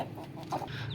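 A newly bought rooster and hen scuffle, giving off brief agitated clucks and squawks close by in a short, busy burst with no voices.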